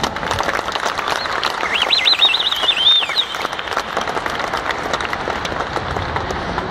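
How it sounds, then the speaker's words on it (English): A business audience breaks into a sustained round of applause for an honored guest, dense steady clapping filling the room with a faint tonal whistle or chirp riding above it midway through. "Can we give him a big round of applause?"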